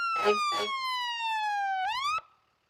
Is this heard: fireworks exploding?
no